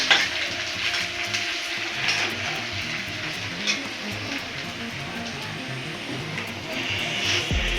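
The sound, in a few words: onions frying in a pan before adding meat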